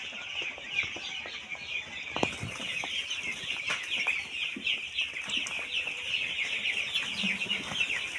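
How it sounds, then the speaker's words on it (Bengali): A shed of about 1,200 ten-day-old broiler chicks peeps and chirps continuously in a dense high chorus on a farm, steady and fairly close, with occasional soft knocks beneath. "এখানে ব্রয়লার আছে 1200 পিস।"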